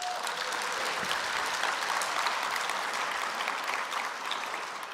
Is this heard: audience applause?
yes